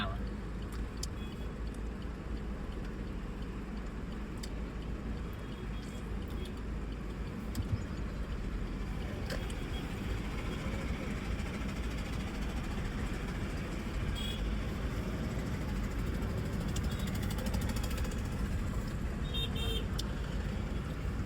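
Busy road traffic near a parking area at Bet Dwarka hums steadily in the background, broken now and then by short, faint car horn toots, while people talk nearby.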